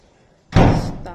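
The main door of a house for sale in Antipolo closes with one sudden loud slam about halfway through after near silence, and the heavy boom rings out briefly afterward.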